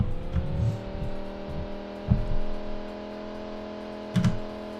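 A car drives fast in the video game Farming Simulator 19, its engine holding a steady, sustained drone throughout, with a few soft thumps and clicks on top.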